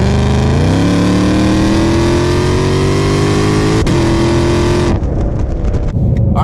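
A 2020 Shelby GT500 on an E85 tune revs up close and loud, its engine note rising steadily in pitch for several seconds before cutting off sharply, leaving a brief lighter rumble.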